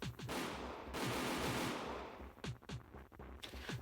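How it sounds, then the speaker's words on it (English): Gunfire in the video game Higurashi When They Cry Hou+: a dense burst of loud, sharp shots fills the first seconds, followed by several separate cracking reports, with no voices. "moments later we heard a bang outside our front door."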